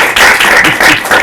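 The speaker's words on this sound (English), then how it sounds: "So please clap for yourself." Short burst of audience clapping at a women leaders network meeting, loud and close, with a few uneven surges over about a second.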